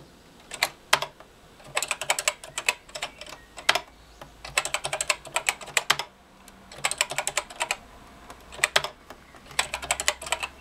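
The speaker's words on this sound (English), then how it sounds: "if I type mode 2, and we just ask for the colours again" Keys clacking on a BBC Micro 8-bit computer keyboard as a command is typed, in several quick bursts of close, crisp keystrokes separated by short pauses, with no one talking.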